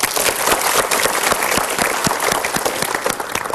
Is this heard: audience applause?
yes